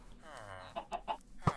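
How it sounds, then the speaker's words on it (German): Minecraft chicken led on a leash clucking in a few short, quiet, closely spaced bursts, with a faint voice underneath. "läuft hier mit einem Huhn an der Leine"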